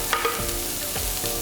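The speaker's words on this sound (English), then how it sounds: "So next we're going to chuck in our zucchini and our eggplant." Chopped zucchini and eggplant sizzle in a hot pan for a sweet potato cottage pie as they are stirred, with a steady frying hiss and a few scraping stirs close by.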